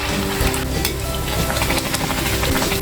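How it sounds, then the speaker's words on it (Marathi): Vadas deep-fry in hot oil on a medium-low gas flame, giving a steady, dense, close crackling sizzle that runs without a break and has no voices over it. "आता हे वडे तळून घेते मी"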